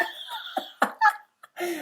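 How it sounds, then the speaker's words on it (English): A few short, sharp coughs burst out in quick succession, close and fairly loud, with brief pauses between them. "the coughing put me off"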